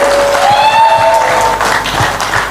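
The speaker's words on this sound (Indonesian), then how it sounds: "Kita berikan tepuk tangan kepada pasangan calon nomor urut 2 dan nomor urut 3." Audience applause at a 2024 regent candidate debate in Kuningan, Indonesia, loud steady clapping throughout with a tonal whine and feedback-like squeal running over it.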